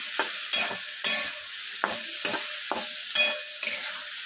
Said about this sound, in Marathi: तर आपण आता छान अशी सोयाबीन तेलावर आणि कांदा टोमॅटो मध्ये परतणार आहोत।